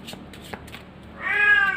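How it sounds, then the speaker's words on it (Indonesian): A pet cat named Lemon gives a single clear, close meow, preceded by faint soft sounds in a quiet room. "Doraemon, teman-teman kucing aku ya."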